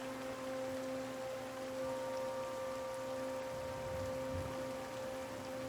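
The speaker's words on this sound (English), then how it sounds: "I love the rain in this." Steady rain in the fantasy role-playing game Pillars of Eternity patters as a soft, continuous wash throughout, under a faint sustained hum, with no talking.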